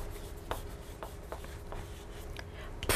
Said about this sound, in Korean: 그럼 우리 다시 한번 이 문장 니콜과 함께 써볼게요